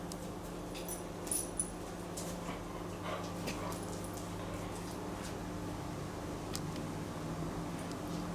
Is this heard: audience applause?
no